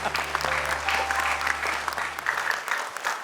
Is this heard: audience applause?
yes